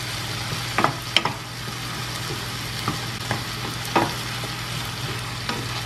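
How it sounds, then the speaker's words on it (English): Shrimp sauté with garlic in a hot pan for sauteed cabbage, a constant sizzling hiss broken by occasional spoon scrapes and clinks, with no talk. "And now I'm gonna add in the shrimp. And the shrimp will cook up really fast."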